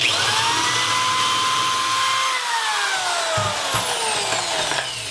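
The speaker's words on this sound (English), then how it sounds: "pre-drill." A power drill whines continuously at high pitch, its tone sagging as the bit pre-drills into birdhouse wood, then winding down near the end.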